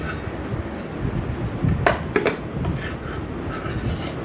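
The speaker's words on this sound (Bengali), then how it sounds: "আমি ডিমটা এবারে প্লেটে বের করে নিচ্ছি" A fried egg, cooked in sunlight on a hot griddle, being scraped off and slid onto a plate, with soft metal scraping and a couple of light clinks, close by and fairly quiet.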